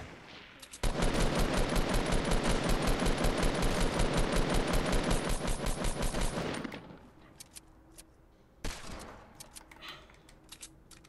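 Rapid automatic gunfire in Fortnite, a long loud burst of evenly spaced shots lasting several seconds, then a stop followed by a single sharp shot and scattered quieter game sounds.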